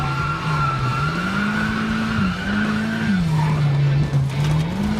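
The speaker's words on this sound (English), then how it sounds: "Drift cars have a hydraulic handbrake designed to lock the back wheels to enable the vehicle to slide around" A drift car fitted with a hydraulic handbrake slides around track corners, its engine holding a steady droning note beneath continuous tire squeal that wavers in pitch throughout.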